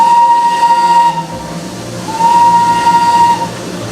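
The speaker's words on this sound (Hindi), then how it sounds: "और क्या पता ये ट्रेन आपके साथ साथ ही चलने लगे।" Darjeeling Himalayan toy train whistle in the mountains, two long shrill blasts separated by a short pause, loud and clear over faint background rumble.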